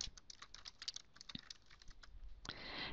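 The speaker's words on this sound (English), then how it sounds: "we'll start typing away." Rapid, irregular keystrokes on a computer keyboard while answering practice exam questions, close and clear with no talking, growing into a denser flurry of keys near the end.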